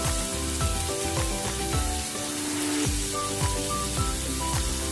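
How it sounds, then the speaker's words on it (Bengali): Mustard and green chili paste sizzles in a hot pan, a dense continuous crackle running beneath steady background music with a rhythmic beat. "এবার এর মধ্যে সর্ষে কাঁচা লঙ্কা বাটাটা দিয়ে দিচ্ছি"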